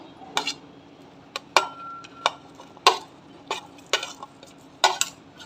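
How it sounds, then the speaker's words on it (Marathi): Roasted garlic and green chillies get pounded in a stone mortar and pestle, a string of close, sharp, irregular thuds with short gaps between strikes. "आपण जे लसूण मिरची भाजून घेतलेलं होतं ते आपण खलबत्त्यामध्ये कुटून घेऊया"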